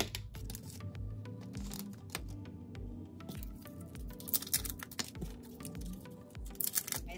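Caramel candies being unwrapped by hand, a busy run of close crinkling and rustling wrapper noises with small clicks and taps, quick and irregular, with no talking.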